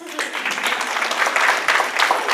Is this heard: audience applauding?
yes